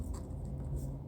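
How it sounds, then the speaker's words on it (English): Pen scratching out handwritten notes, a quiet continuous scratchy rustle with faint low room hum beneath, close and steady throughout. "Let me write that down."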